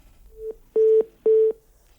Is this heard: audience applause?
no